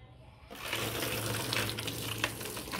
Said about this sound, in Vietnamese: nước đã bắn tung tóe rồi